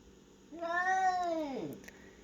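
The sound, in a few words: cats meowing at each other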